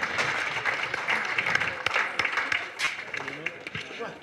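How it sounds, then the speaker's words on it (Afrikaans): Applause at a livestock selection auction just after a lot is sold, a crowd clapping in a scattered, uneven patter at moderate volume with voices talking through it. "Kom ons gee lekker aan 'n klap daar so."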